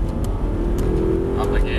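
An Audi R8 engine pulls away under gentle throttle, a steady mid-pitched drone climbing slightly in pitch, with someone talking over it.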